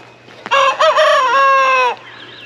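A rooster crows once, loud and close, a wavering drawn-out call lasting about a second and a half.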